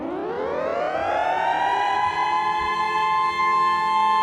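An air raid siren alert plays in the Path of Exile 2 action game when a rare monster spawns. It winds up from a low pitch into a loud, steady wail that holds for several seconds.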